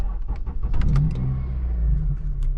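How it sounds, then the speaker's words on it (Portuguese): A used Honda Civic Type R with a cracked original exhaust fires up from its push-button start, a short cranking chatter giving way to a loud, close engine catch that settles into a rough idle. "Vou dar uma partida aqui pra vocês"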